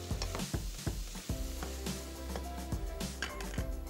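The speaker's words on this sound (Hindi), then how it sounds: "और इसको थोड़ा सा मिक्स करेंगे ताकि मसाला थोड़ा सा खुशबू वाला बन जाए" Ground red chili, turmeric and cumin are stirred in a hot pan, with a soft sizzle beneath repeated sharp metallic scrapes and taps of a spoon against the pan, close and rhythmic.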